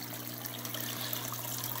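Steady water flow from an aquarium waterfall in a fish tank, a continuous broadband rush holding at an even level throughout, close and unbroken.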